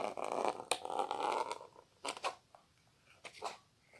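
Scissors cut through craft fabric for an amigurumi doll in a few quiet, close snipping and rustling bursts separated by short pauses, faint and intermittent with no speech.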